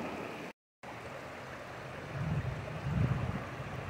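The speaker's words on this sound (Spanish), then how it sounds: "este río es el que va a aumentar el caudal un poquito más abajo." A river on the way to San Miguel Piedras rushes with a steady broadband wash, swelling slightly louder toward the end. Wind buffets the microphone, and the sound drops out briefly near the start.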